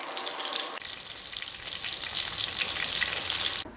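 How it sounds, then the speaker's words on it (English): Chicken pieces browning in a pan of hot olive oil and butter, a loud, steady crackling sizzle that jumps up abruptly after a quieter start and cuts off near the end. "I have the chicken in the pan with our olive oil, or hot olive oil and butter"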